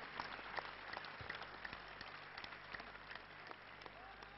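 Sustained audience applause fills a large gathering in honour of Baba Satyanarayan Maurya, a dense steady wash of many hands clapping at moderate distance with no clear talk over it.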